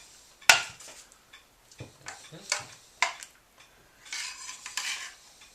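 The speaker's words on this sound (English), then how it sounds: "And a spoon for our cheese sauce." Spoon stirring cheese sauce in a pan, with sharp metallic clinks against the pan and scattered scraping, clattering strokes at close range.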